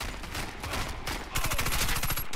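Calico gun fired in the online shooter Warface, with steady rapid automatic bursts, loud and close, growing denser and sharper halfway through.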